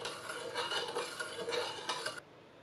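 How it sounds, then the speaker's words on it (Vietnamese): Spoon stirring sugar into about 120 ml of boiling water in a bowl to dissolve it, a steady close scraping and light clinking that ends abruptly. "Mình quậy cho tan."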